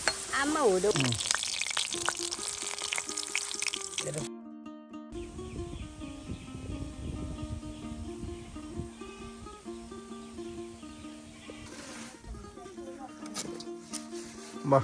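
Meat drops into a pan of fried spice masala and sizzles steadily, with scraping stirs and a background full of music and voices.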